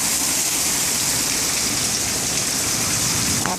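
Heavy rain pours down in a dense, steady roar close by, spread evenly across the whole stretch with no talking.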